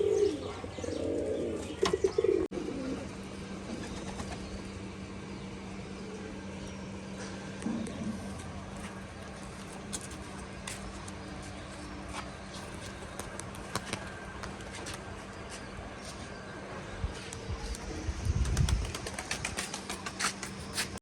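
Rajshahi pigeons cooing in a loft where a male calls near a nesting female, with low throaty coos at the start and again near the end over a steady background hum and faint chirps.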